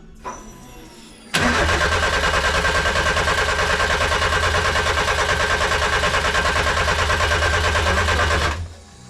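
A classic Mini fitted with a Nissan engine cranks steadily for about seven seconds without firing, the starter churning in an even, rapid rhythm before cutting off, close and loud.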